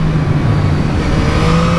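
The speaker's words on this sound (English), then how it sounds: "man, this engine!" A 2022 Yamaha MT-09 with a three-cylinder engine revs hard while riding, a loud, continuous, gritty engine roar that holds steady throughout with wind noise.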